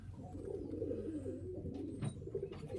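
A hen pigeon coos in a loft of young birds, a soft, low, rolling coo repeated a few times close by, with faint background noise and no talk.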